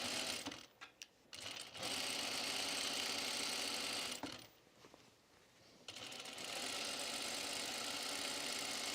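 A sewing machine runs a gathering stitch on dress fabric in steady whirring bursts, close up, with a brief stop and restart partway through.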